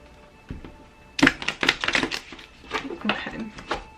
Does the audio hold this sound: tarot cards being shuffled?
yes